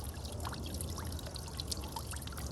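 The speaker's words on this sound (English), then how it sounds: "You can create a nice water fountain with this." Water splashes steadily from a POPOSOAP 6.5W solar fountain pump with a built-in battery, a continuous close trickling and pouring wash with no pauses.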